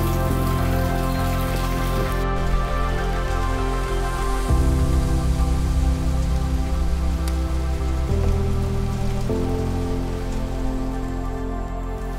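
Steady rain pattering on a surface, dense and continuous, mixed with a sustained tonal hum that shifts in pitch a few times.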